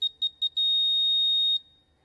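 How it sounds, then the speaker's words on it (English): An electronic quiz team buzzer at a junior competition sounds three short high beeps, then one sustained tone lasting about a second before cutting off, clear and alone. "Yeah, team 5, press the buzzer."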